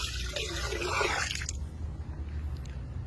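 PowerGRO liquid pours into a barrel filled with water for soaking rice seed, a close splashing trickle for about a second and a half that gives way to quiet dripping.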